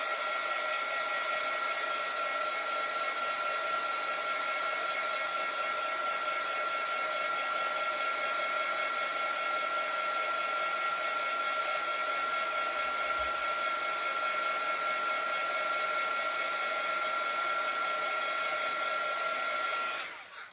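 A hair dryer blows steadily and loudly on wet paint on a DIY wooden love bird house, a constant whirring roar with a steady tone running nearly the whole time before cutting off at the very end.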